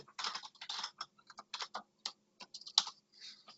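Close, crisp keyboard typing in quick irregular bursts of keystrokes with short pauses between them, as a web address is entered, heard alone in a quiet room.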